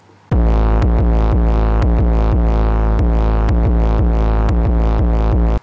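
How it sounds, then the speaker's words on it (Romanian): A simple 808 bass pattern, compressed, distorted and heavily processed, plays loud and alone: repeated booming hits with sliding pitch drops, in a steady, syncopated rhythm. "Un element foarte important la beat-ul ăsta e 808-ul, e un 808 simplu, compresat, distorsionat, procesat destul de mult"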